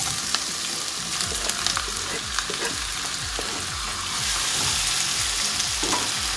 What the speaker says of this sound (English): We are going to saute the tomatoes really well